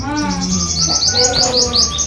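Sparrows chirp in quick repeated tweets, bright and close, with a lower tonal hum underneath.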